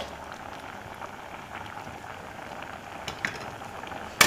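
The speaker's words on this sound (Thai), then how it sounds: "ทีนี้รอให้เพิ่นเดือดนะคะ" A pot of Thai curry with lemongrass bubbles at a steady simmer, a dense crackling patter with small pops and a louder knock right at the end.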